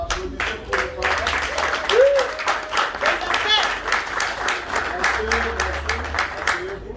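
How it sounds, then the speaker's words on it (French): Wedding guests at a Congolese ceremony applaud the bride's parents, a steady wash of clapping lasting throughout with music and voices underneath. "Applaudissez pour les parents."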